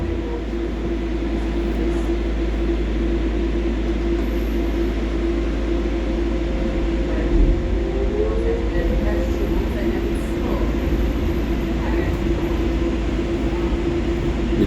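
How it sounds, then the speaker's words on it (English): Steady rumbling hum of a Docklands Light Railway train in motion in London, continuous and even throughout, with a faint squeal partway through. "The train is actually traveling"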